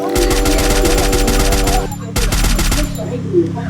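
Loud, close machine-gun fire in a shooting video game: rapid automatic bursts almost continuously, with a brief pause near the middle before more firing.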